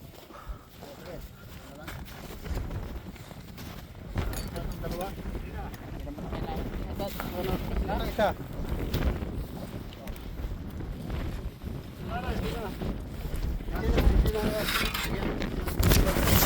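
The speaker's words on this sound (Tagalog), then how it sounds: "Oh, lakas pa hangin." Strong, steady wind of about 45 km per hour buffets the microphone out on the ice while ice fishing, a continuous roaring rumble with gusts, and people speak at times through it.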